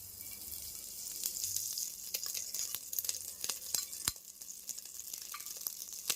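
A spoonful of ghee sizzling in a pan at the start of cooking chicken biryani, a soft steady hiss with a few sharp clicks and spatters, fairly quiet and free of talk.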